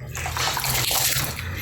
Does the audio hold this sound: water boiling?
yes